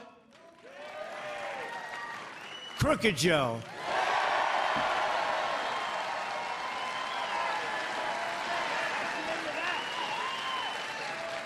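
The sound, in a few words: crowd applauding and cheering at a rally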